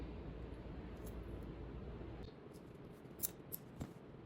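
Red electrical tape snipped with scissors while wiring a power cable into a fuse box on a Kawasaki Mule SX, a few quick close cuts over a steady background hiss.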